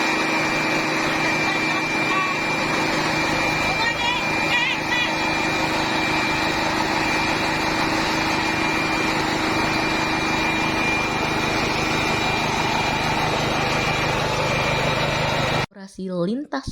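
A motor-driven grinding machine runs steadily while milling sun-dried gadung yam slices, a continuous close mechanical drone with a high whine that stops abruptly near the end.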